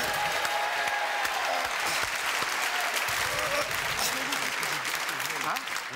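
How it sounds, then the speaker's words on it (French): A television studio crowd claps continuously in dense, steady applause, with voices talking beneath it. "applaudissements pour les porteurs d'échelle qui sont ici"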